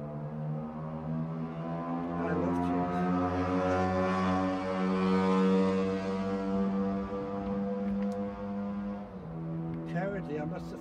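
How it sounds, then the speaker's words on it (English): Motorbikes passing a house, a strong droning engine tone that swells and then fades over several seconds, with a voice speaking on top. "I'm not so fond of motorbikes going past my house in the middle of this"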